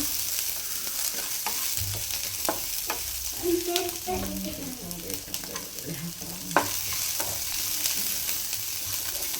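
Onions frying in a pan for Karnataka-style erekayi (ridge gourd) palya, a continuous close sizzle with spatula scrapes and clinks against the pan, no speech.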